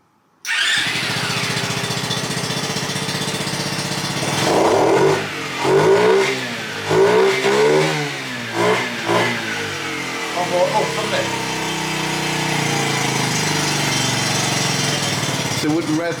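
A modified 50cc Monkey bike with the air filter removed and a new ECU starts up and revs repeatedly, the small engine rising and falling in pitch over a steady idle, loud and close, with a voice talking.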